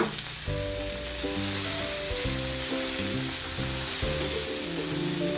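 Galunggong fish frying in reused cooking oil, a steady broadband sizzle running under loud background music with distinct melodic notes for the whole stretch.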